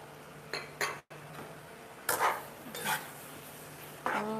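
Clinks and scrapes of a spatula against a pan as tomatoes go into stir-fried noodles for mee goreng, a few brief bursts with quiet gaps between them and no talking.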